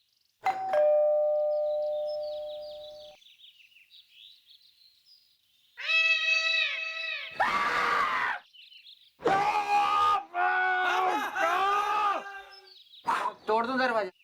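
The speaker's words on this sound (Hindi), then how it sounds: "घंटी" A doorbell rings once in a sustained chime, followed after a pause by loud, strained voices shouting and groaning in a comic Hindi television scene.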